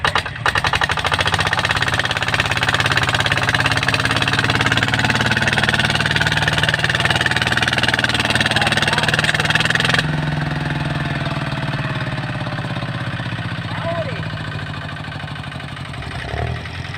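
A large Ford tractor's heavy diesel engine runs loudly and continuously with a rough, rattling chug, easing slightly in volume partway through.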